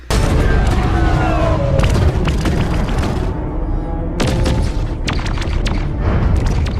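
Klingon ship weapons fire in a Star Trek Discovery space battle: loud, heavy booming blasts and rumbling impacts layered with whooshing sweeps, several bursts in quick succession with a brief lull midway.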